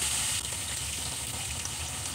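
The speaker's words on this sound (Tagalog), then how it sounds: "Prito lang po muna tayo." Loud, continuous sizzling of fish frying in hot oil, a dense crackling hiss close up with no talking.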